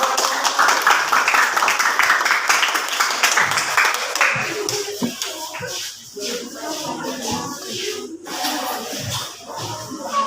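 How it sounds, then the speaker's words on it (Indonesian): A classroom audience claps for a student group after its presentation, a dense patter for the first few seconds that thins into scattered claps, shuffling and a few voices. "Tepuk tangan"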